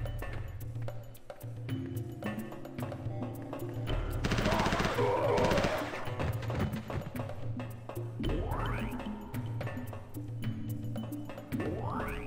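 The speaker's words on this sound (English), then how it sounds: "I'm gonna re-equip the machine gun for now" Machine gun fire from Mortal Kombat Special Forces rattles in rapid bursts over a droning game soundtrack, with a dense, louder stretch of shooting in the middle and clinking effects later.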